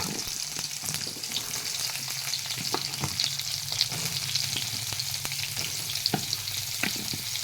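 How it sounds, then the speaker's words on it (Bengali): Potato and pointed gourd pieces frying in hot oil for a fish curry, a steady crackling sizzle throughout with repeated scraping and stirring knocks from a spatula against the pan. "এখন আমি আলু পটলগুলো ভেজে নেব তেলের মধ্যে আলু আর পটল দিয়ে দিলাম"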